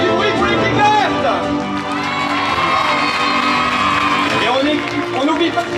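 A large live show audience roars, cheers and whoops loudly and continuously for the green team at a stage spectacle in Saint Renan, with children's shouts mixed into the crowd noise.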